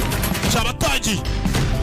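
Gunfire from a war film comes as a dense burst of rapid shots and crashes, loud and continuous, mixed with film dialogue and music.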